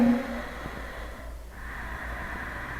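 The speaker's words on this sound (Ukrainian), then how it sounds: "повертаємо глибоке рівне дихання через ніс" Slow, steady ujjayi breathing through the nose during a yoga session: a soft, close, rushing breath with a faint throaty constriction, drawn out over a few seconds with no talking.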